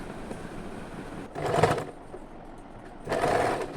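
A sewing machine top-stitches the neckline binding of a baby frock in two short whirring bursts separated by a pause, close and fairly quiet.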